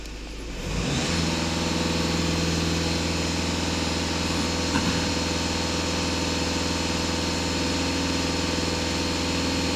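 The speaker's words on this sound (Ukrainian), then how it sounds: "Так, даю газ в пол" A VW Golf 2.0 TDI EA288 diesel engine, during a DPF and EGR cleaning, rises quickly from quiet under full throttle and then holds a loud, steady high-speed drone for the rest of the time, with no talking.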